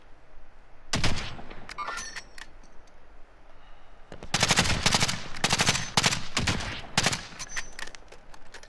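Bursts of automatic gunfire in Call of Duty, a short volley early and then a longer run of rapid, sharp shots in several clusters, loud and close with quiet gaps between.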